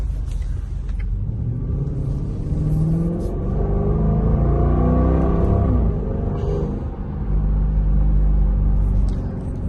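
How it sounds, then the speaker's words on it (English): A 2021 Dodge Durango R/T with a Diablo 93-octane tune and swapped PCM accelerates hard from a dead stop, its engine rumbling loud and rising steadily in a continuous roar with no talking. "Let's see if the tires spin from a dead stop."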